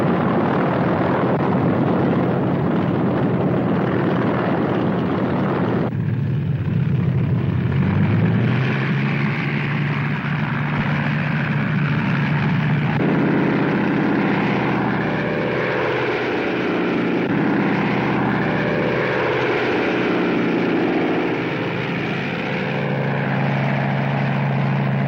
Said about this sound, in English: and the bombers got underway